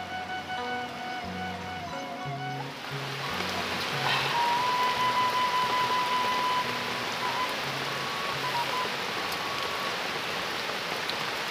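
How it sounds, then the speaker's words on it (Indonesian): Rain pours steadily beside a river before a flood, a broad continuous hiss that swells and stays loud after a few seconds, with a faint tonal hum partway through and no talking. "menikmati suasana hujan di pinggir sungai sebelum banjir"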